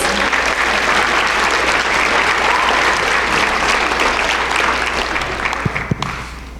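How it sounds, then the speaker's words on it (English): Sustained audience applause in a lecture hall greets a student volunteer coming up on stage, a dense steady wash of many hands clapping that thins slightly near the end. "Give her a round of applause."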